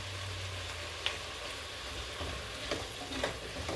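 A tablespoon of margarine sizzles in a hot pan as the base for a lentil coconut curry stew, giving a steady, close crackling hiss with a few sharper pops and no talking.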